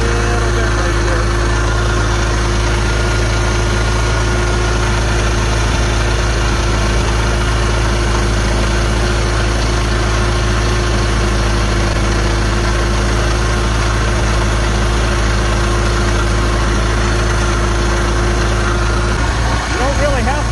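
A Farmall Cub tractor pushing heavy snow with a plow in first gear runs steadily at a low, constant throttle, its engine drone close and unbroken throughout.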